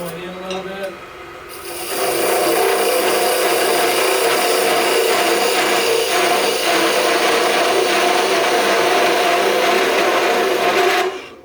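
A parting tool cuts into a wooden spinning top on a spinning lathe, a steady loud rasping whir that holds for about nine seconds before stopping abruptly.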